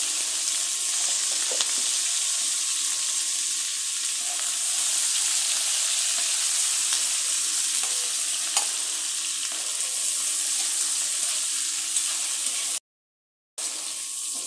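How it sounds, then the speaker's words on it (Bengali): Onion and green chili fry in oil left from frying koi fish, a continuous bright sizzle heard close up with faint stirring taps and a brief silent dropout near the end. "আমি এগুলা মাছ ভাজার তেলে দিয়ে দিলাম। পেঁয়াজ কাঁচামরিচটা একটু হালকা ভেজে নেব।"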